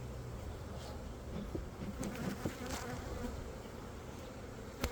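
Honey bees buzz steadily around a tall hive full of honey and stored pollen, a dense close hum running throughout with a few louder passes near the frame.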